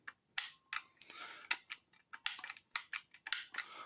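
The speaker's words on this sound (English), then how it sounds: "when you press it, when you clear it, you should hear a click afterwards" Sharp plastic clicks from the buttons of a keyless pushbutton lock box being pressed and reset, about a dozen quick irregular clicks, close and fairly quiet.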